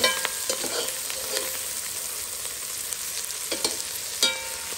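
Onions frying in a pan, a bright, continuous sizzle with a few quick scraping stirs breaking through close by.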